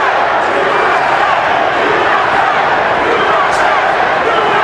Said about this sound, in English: you hear a chanting of USA as American fans here take up the chant to support Mayweather